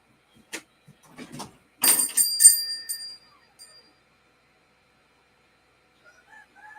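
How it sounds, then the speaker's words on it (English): A rooster crows from downstairs, heard faintly through a cracked-open door as a short, thin burst in the middle, set among scattered small knocks and near silence. "I want to go crack the door open so you can hear the roosters downstairs."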